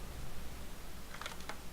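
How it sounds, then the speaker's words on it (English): A computer keyboard being typed on, heard as a short burst of faint, quick clicks near the end over quiet room noise. "Get a whole 4D experience with listening to my keyboard sounds."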